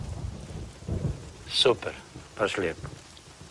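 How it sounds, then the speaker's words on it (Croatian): Heavy rain falls steadily during a thunderstorm while low thunder rumbles. People speak briefly over the storm. "Ko se još veseli kiši, grmljavini, nevremenu?"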